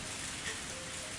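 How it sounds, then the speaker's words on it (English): Steady rain falling in a rural village, a dense continuous hiss of drops with no talk over it. "the rain doesn't seem to want to stop"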